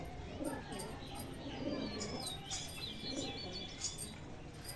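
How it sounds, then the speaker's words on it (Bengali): Pigeons coo in soft, low, evenly spaced calls at a house, faint beneath a steady background hiss, with light chirps of other birds scattered across the clip. "এই যে পায়রা"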